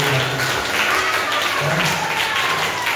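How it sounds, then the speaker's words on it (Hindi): Clapping from an audience at a devotional satsang gathering welcomes Narendra Singh, a dense, continuous burst of applause at close range holding steady for the few seconds. "ताली बजाए स्वागत करो हमारे नरेंद्र सिंह"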